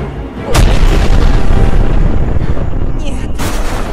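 A sharp blast sets off a sustained, heavy rumbling barrage, with another burst near the end, loud and close like explosions in the game Crysis Remastered.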